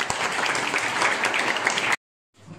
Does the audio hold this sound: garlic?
no